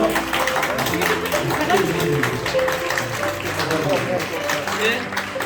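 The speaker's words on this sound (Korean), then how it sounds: "모두 같이 앉으시고 축복의 마음을 담아서 박수 주시면 감사하겠습니다." A church congregation seated at a flag presentation ceremony gives blessing applause, a dense sustained patter of many hands heard under ongoing talk and murmuring voices in a large room.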